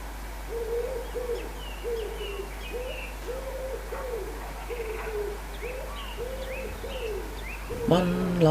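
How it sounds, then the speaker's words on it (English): Evening birds calling as the town noise dies down: a steady run of soft, repeated low hooting coos at a moderate distance, with fainter higher chirps above and a louder burst of song near the end, over a constant low hum. "The sounds of the evening birds are always interesting as the roar of the town dies down."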